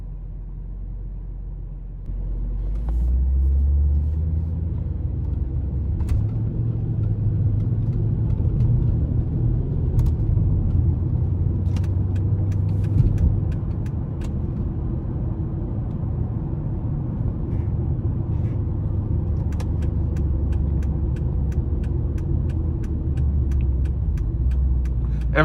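A 2009 Dodge Challenger SRT-8 with a 6.1-liter V8 drives along, its engine a deep, steady low rumble heard from inside the car, swelling slightly after the first couple of seconds and holding with no talking.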